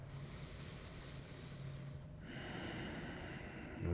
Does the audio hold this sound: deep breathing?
yes